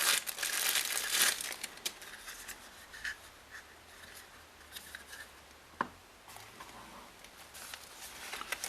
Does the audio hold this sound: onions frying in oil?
no